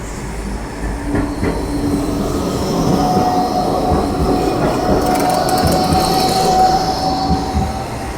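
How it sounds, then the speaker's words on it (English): A Blackpool tram rolls past on its rails, a loud, near rumble with wheel clatter and a thin, sustained squeal of wheels on the track, no talk over it. "there's a tram coming along now, look."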